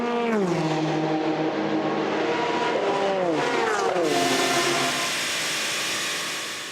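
The number 77 Dempsey Proton Racing Porsche race car screams past at the 2018 24 Hours of Le Mans, its engine note rising and dropping through several gear changes before fading away.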